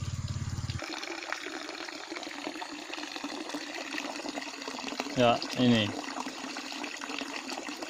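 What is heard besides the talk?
water flowing from hydraulic ram pump tap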